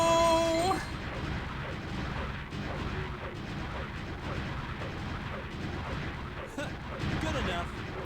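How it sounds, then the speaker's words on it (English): Explosions from the video game Sonic Adventure DX boom and crackle as dull, muffled bursts under dense game audio, with a voice talking at times. "I love how the explosions in this game all sound like just like squishy sounds."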